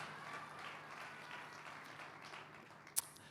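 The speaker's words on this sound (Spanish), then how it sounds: "De ese aplauso de alabanza al Señor." Steady church congregation applause fills the room, a continuous wash of many hands clapping at moderate volume, with one sharp louder clap near the end.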